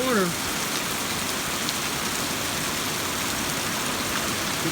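Heavy rain pours onto a roof at a farm with mulberry trees and lemongrass, a constant near rushing patter; a brief voice-like sound is heard at the very start before the rain continues alone.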